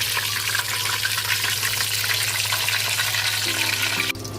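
Chicken pieces frying in hot oil, a steady bright sizzle and crackle close by with a constant low hum beneath, a brief clunk near the end.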